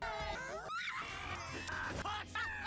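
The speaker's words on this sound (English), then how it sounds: "Lots of screaming." Shrill cartoon screaming and wailing from the animated show 12 Forever, loud, overlapping voices rising and breaking over about three seconds, with shrieking pitch sweeps mixed with yelling.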